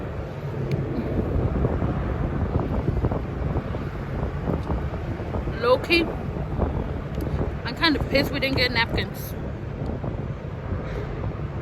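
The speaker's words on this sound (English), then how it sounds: "It's so windy." Strong outdoor wind buffeting the microphone, a constant low rumbling roar with gusty swells under a person speaking nearby, the talk rising briefly above it midway.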